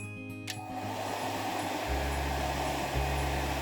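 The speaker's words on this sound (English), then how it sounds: "And then hairdryer." A hair dryer blows steadily up close over painted resin, a constant airy whoosh with a low motor hum that shifts pitch slightly as it runs.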